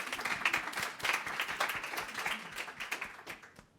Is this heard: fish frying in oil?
no